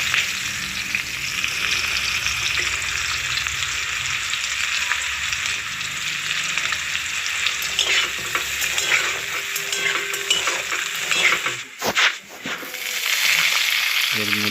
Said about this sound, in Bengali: রসুনটাকে নেড়ে নেব।